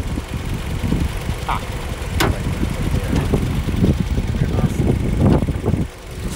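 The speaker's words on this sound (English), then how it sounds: "Here's a four-cylinder motor." A 2019 Toyota RAV4 four-cylinder engine idles with a steady low rumble and faint ticking, close and fairly loud, with someone talking over it.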